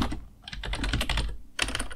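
Quick, steady clicking of typing on a computer keyboard while coding a Snake game in JavaScript on a Raspberry Pi, close and continuous with one short pause, no talking.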